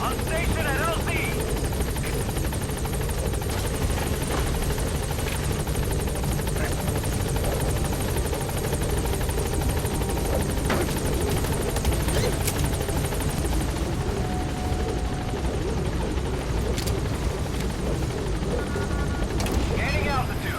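The B-Quad helicopter in Metal Gear Solid V arrives at a landing zone with a loud, constant rotor drone that lasts throughout, with occasional faint game effects over it.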